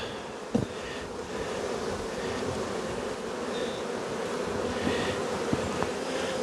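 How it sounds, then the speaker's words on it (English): Honey bees hum steadily around brood frames pulled from a hive, a continuous soft buzzing swarm with occasional louder bees darting near and faint handling knocks, moderately quiet and with no talk. "Look at all the bees."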